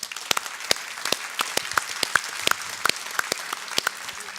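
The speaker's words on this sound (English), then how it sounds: "Please join me in one more round of applause for all of our sponsors" Conference audience at the Utah Global Forum applauding its sponsors, a dense, even wash of clapping from a crowd with crisp individual hand claps popping out throughout.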